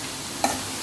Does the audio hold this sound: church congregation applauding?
no